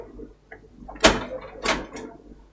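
A drawer slides out of a TCN-FEL-9C frozen food vending machine, giving two short close clunks about half a second apart with faint rattles between.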